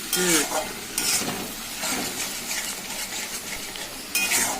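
Sour curd stirred into paneer masala frying in a pan: loud, repeated scraping strokes of a spoon over a continuous sizzle, with a few metallic clinks, no voices.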